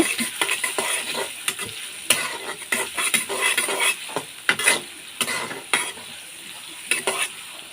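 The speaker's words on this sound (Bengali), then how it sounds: "এবার পেঁয়াজ মরিচগুলো ভালোভাবে ভেজে নেব" Chopped onion, garlic and green chili fry in oil in a pan for a stir-fried greens dish, with a steady close sizzle broken by frequent scraping strokes of a spatula across the pan.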